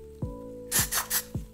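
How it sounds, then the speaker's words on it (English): Got To Be freezing hairspray spritzes three quick times in a fast row, close and soft, with low hollow knocks before and after. "I like to go in with the Got To Be freezing spray. Just like a really light spritz."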